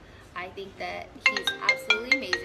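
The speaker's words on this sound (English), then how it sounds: "I'm so sorry that phone is going off in your ears" A phone ringtone plays a quick repeating chime pattern, several bright beeps in a row, over and after a person talking during an interview.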